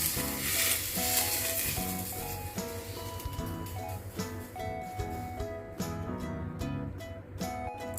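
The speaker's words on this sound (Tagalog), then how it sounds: "Ibuhos natin yung ating pinakulong mantika sa ibabaw mismo ng spring onion." Hot oil poured over spring onion on steamed fish, giving a loud, steady sizzle and crackle that holds throughout with no talking.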